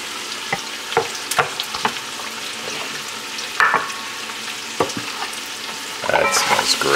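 Andouille sausages fry in a pan with garlic, a close, steady sizzle punctuated by clacks and scrapes as pieces are moved, with the sizzle swelling louder near the end and no talking.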